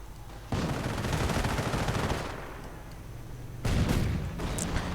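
MG42 machine gun fire in a strategy video game, long loud sustained bursts of rapid fire that ease off midway and then start again with renewed shooting.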